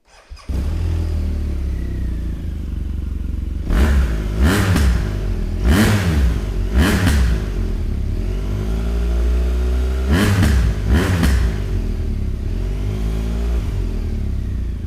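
A BMW R1200RS motorcycle engine fires up and idles, then revs sharply several times in bursts, loud and close, before settling back to a steady rumble.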